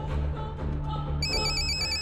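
An outgoing phone call rings through in a Hindi film scene, with a low hum in the first half and then a bright electronic ringback tone starting partway through and repeating.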